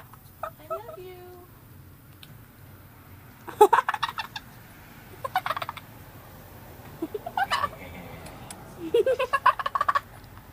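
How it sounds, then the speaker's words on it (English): A pet bird chirps, whistles and squawks in repeated bursts at close range, with soft human talk in the gaps between calls. "Crazy bird."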